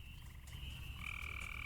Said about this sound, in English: Tree frog, same shit.